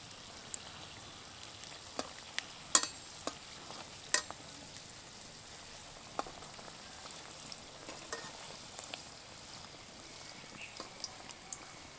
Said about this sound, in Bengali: এবারে তেলের মধ্যে লবঙ্গ লতিকাগুলোকে ঘুরিয়ে ফিরিয়ে একদম লাল করে ভেজে নেব।